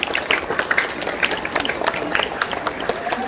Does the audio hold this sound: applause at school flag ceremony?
yes